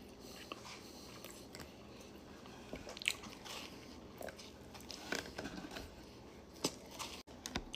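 A Reese's peanut butter Crumbl cookie being bitten and chewed close to the mic, with soft crunches and moist chewing that come in irregular bursts and no talk.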